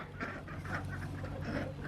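Ducks in a wet, muddy farmyard give a string of faint, overlapping quacks and calls that continue steadily against a low background hum.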